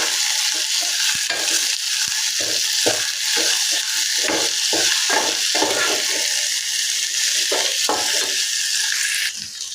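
Onion with ginger and garlic frying toward golden brown for a hotel-style matar paneer gravy, a loud, dense sizzle running throughout with frequent scraping stir strokes, up close and without voices.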